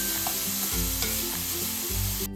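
Grated coconut and jaggery sautéed in ghee in a pan, with a steady close sizzle and a few scraping stirs of the spatula, alone without talk.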